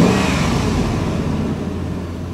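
A 2006 Dodge Durango's V8 engine runs at idle with the window open, giving a steady, smooth low hum that stays even and continuous throughout with no voices.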